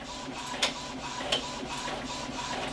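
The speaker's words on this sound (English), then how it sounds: "you can see it printing away over there" A sublimation printer running nearby, a steady mechanical whir with two brief clicks or clunks, no talking.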